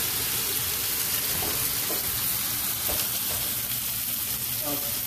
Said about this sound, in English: Let's go stir up a little more.